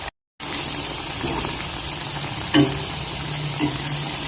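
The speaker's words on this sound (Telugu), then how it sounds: "ఇవి మంచి కలర్ వచ్చే వరకు వేయించుకుందాం." Semolina rings deep frying in oil make a steady bubbling sizzle after a short silence, with two soft knocks as they are turned.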